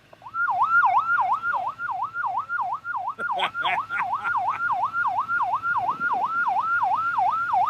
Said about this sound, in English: I turn that siren off.